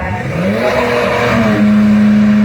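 Nissan GT-R drag car launching in the right lane at a drag strip, a loud close engine note climbing in pitch as it pulls hard, heard alone with no voices.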